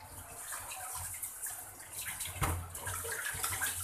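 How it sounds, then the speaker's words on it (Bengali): Rohu fish is washed in water, with splashing, swishing and dripping sounds that rise and fall close by at a fairly low level. "এখন আর একটু ধুয়ে দিচ্ছি।"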